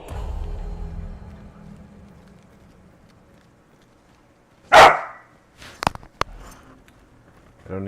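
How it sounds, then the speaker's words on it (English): Dog barking in the video game Hunt: Showdown, a few loud, sharp barks in a quick cluster after a quieter stretch of low rumble. "I don't need the barking right when I get started."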